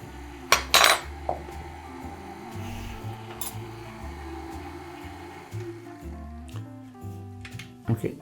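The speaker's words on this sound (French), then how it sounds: "on va incorporer délicatement, mélanger tout ça pour ne pas faire écraser les œufs" Flour being folded and mixed into eggs for a Christmas batter, with utensil clinks and scrapes against a bowl at the start, then soft continuous stirring under a low hum.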